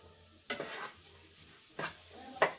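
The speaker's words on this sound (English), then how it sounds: "And this is going to get sauteed." Vegetables lightly salted and sautéing in a pan for stuffed eggplant: a soft background sizzle broken by three short bursts of stirring and scraping with a utensil, no voices.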